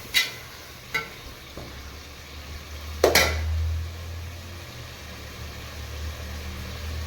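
Mint leaves soften in a hot pot for chicken biryani with country chicken, a low steady sizzle beneath a few sharp utensil knocks and scrapes against the metal, close by with no talk.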